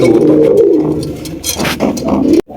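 Racing pigeons coo close by in soft, rolling, throaty phrases that overlap one another. The sound stops abruptly near the end.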